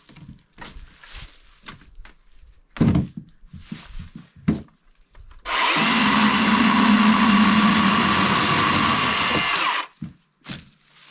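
A DeWalt electric chainsaw cuts into wood in one steady, loud burst of a few seconds, preceded and followed by scattered handling knocks and clatter.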